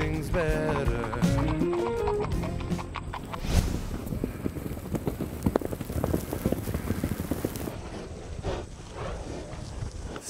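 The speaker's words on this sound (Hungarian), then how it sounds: "A két lóerős fogat közben előállt" Rhythmic hoof clip-clops from two horses pulling a carriage at Szilvásvárad, Hungary, steady and fairly close, mixed with a pattering, rain-like wash of noise throughout.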